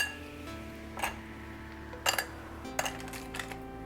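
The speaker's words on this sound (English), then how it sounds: "I'm going to pop in a few ice cubes here." Ice cubes dropped into a glass for Thai iced tea in a home kitchen, giving a few separate bright clinks and knocks against a quiet background hum.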